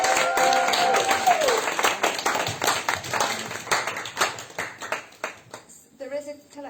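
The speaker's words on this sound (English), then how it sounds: "Another round of applause." Audience applause at a book launch for the book Our Time is Now: a steady wash of many hands clapping that stays fairly loud, then thins and tapers off near the end, with a voice briefly heard at the start.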